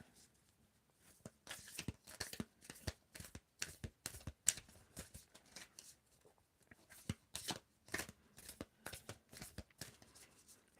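Oracle cards being shuffled by hand, not riffled, in quiet soft bursts of papery slapping and sliding, close and irregular, with brief pauses between runs of overhand shuffling.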